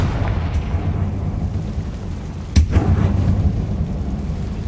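A Confringo spell cast in a video game explodes as one sharp, loud blast that decays over a couple of seconds above a steady low rumble of game background noise.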